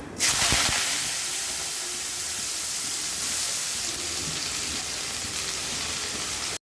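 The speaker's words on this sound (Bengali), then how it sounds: "কালো জিরা ফোড়ন দিয়ে দিলাম" Black cumin seeds sizzle and hiss steadily in hot oil for Bengali tempering, a loud, dense frying crackle that flares at the start and then holds level without pause.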